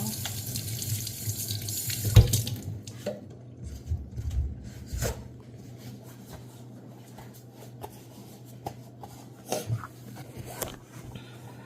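Tap water runs steadily into a sink while hands are washed, a constant close splashing with occasional louder knocks and rubbing.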